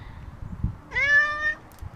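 A single clear, close meow from a cat being fed, lasting about half a second, over quiet rustling background noise.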